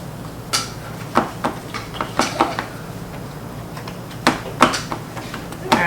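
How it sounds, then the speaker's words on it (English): Baking pans being lifted and greased while making communion bread: scattered metallic clanks and knocks, a few sharp taps spaced irregularly against a quiet room hum. "Lift them up real quick and grease the pan."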